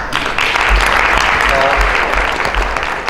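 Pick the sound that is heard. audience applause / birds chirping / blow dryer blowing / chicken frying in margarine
audience applause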